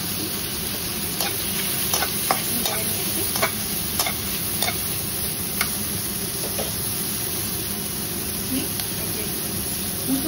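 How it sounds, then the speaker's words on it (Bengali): Tomatoes and red chilies fry over a high flame while being stirred, a constant loud sizzle with frequent sharp clicks and scrapes of the spoon against the pan, no voices. "টমেটোটা দিয়ে একটু হাই ফ্লেমে নাড়াচাড়া করে নিচ্ছি।"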